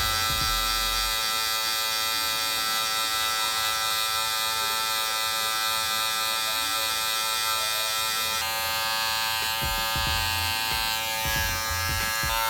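Electric hair clippers fitted with a 1 guard, lever open, cutting hair during a low taper haircut, giving a constant close, loud buzzing hum that shifts slightly in tone as the blades pass through hair.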